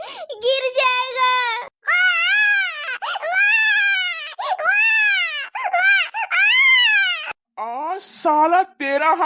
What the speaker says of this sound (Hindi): देखिए मेरा छोटा सा बच्चा रो रहा है